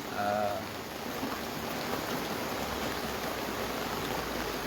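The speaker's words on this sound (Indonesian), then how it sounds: "saat ini juga sedang berlangsung hujan" Heavy rain pours down in Enrekang regency with strong wind, a dense, steady rushing hiss that stays constant throughout, with no voices heard.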